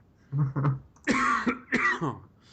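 A person coughs several times in short, rough bursts, close and loud, with brief pauses between them.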